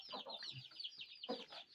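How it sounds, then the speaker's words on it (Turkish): A rooster gives a few short clucking calls, fairly quiet and close, with brief pauses between bursts. "yine küllü horozum var"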